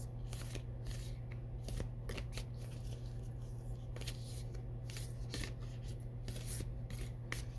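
A large tarot deck being shuffled by hand, a steady run of soft papery riffles and rubs, close and fairly quiet over a low background hum, with no talking.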